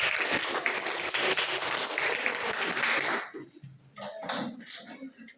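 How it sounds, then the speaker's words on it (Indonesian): A classroom of students claps for about three seconds, a dense crowd burst that stops abruptly and is followed by a few scattered claps and light room noise. "Berikan aplaus dulu."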